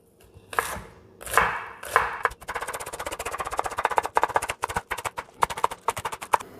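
A knife chops green onions (scallions) on a cutting board for cheese scones. A few slow strokes are followed by a fast, steady run of crisp, close knocks, with no talking.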